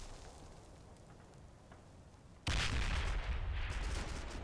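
Small-arms gunfire aimed at infantry in the WWII strategy game Combat Mission Final Blitzkrieg, Stavelot battle: a quiet stretch, then a sudden loud, dense burst of rattling fire that keeps going without a break.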